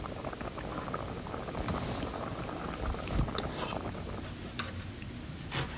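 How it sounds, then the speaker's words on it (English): Rice and lentils boil in a pot for khichdi, giving a steady low bubbling wash with scattered soft ticks and pops close by and no voices. "Boil them, take this foam out."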